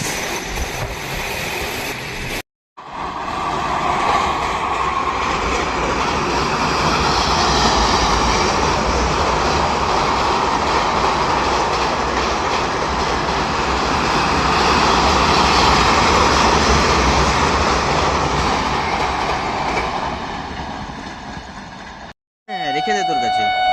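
An express train storms through a village station, a loud continuous roar and rumble that swells, holds for about twenty seconds and eases, close to the platform, with a person speaking at the start.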